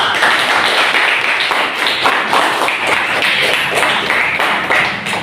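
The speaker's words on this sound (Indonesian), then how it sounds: "Kita kasih aplaus atas diskusi yang kalian lakukan dengan baik" A classroom of students applauding, dense and continuous clapping that holds steady for several seconds at close range.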